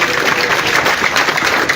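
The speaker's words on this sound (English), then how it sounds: "I will ask each of us to clap for our able panel." Audience at a party headquarters event in Uganda claps for a panel after a manifesto presentation, a brief, dense burst of steady applause.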